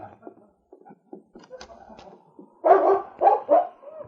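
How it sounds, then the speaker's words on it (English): A large dog in an old-time Yukon radio drama barks repeatedly and scratches at a cabin door, with scattered scrapes and thumps first, then a burst of loud, close barks. "the sound of the great dog King barking and scratching at the door"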